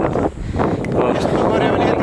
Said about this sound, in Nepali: यहाँ आउँदाखेरि यस्तो राम्रो हावा